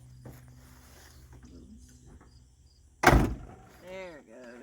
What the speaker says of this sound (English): The doors actually shut pretty good for a GM car.